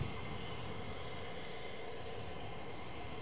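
Distant F-15C jet aircraft departing from an air base, a steady broadband roar heard from afar, faint and continuous, with no voices.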